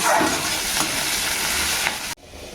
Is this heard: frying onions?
yes